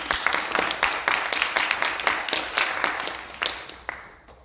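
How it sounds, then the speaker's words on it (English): Audience applause for candidates at a DC at-large council forum in a library, steady clapping from a room of people that gradually thins out toward the end. "You can give them a round of applause."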